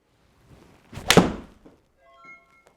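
A single solid thwack of a golf club striking a ball during swing practice, one loud close impact with a short swish before it, then faint electronic tones afterward.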